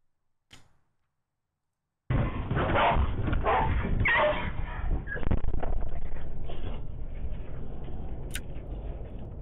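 A dog makes cat-like meowing whines and yips close by, a string of high, wavering cries that starts abruptly after a short silence and continues alone.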